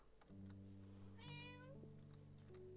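A video-game cat gives one long, clear, drawn-out meow, close and alone with no talk, against a faint steady tonal background.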